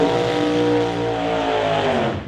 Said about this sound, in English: dragster running in Super Pro